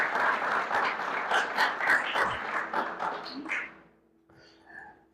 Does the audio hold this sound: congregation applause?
yes